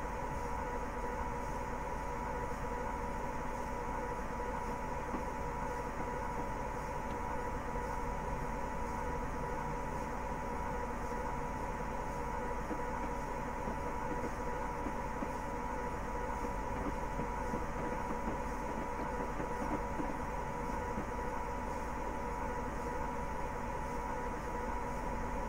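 A locomotive in Train Simulator Classic runs at a steady pace, its engine and rolling rumble forming a continuous, even drone with no speech over it.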